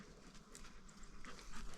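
A dog pants rapidly and steadily up close, quick rhythmic breaths over a faint background hiss.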